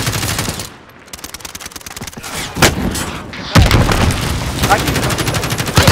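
Rapid bursts of automatic gunfire and heavy shots from the video game Warzone crackle loudly throughout, with brief pauses and a short spoken word in the mix.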